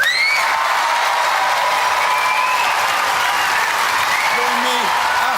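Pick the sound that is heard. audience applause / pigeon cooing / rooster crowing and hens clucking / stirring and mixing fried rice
audience applause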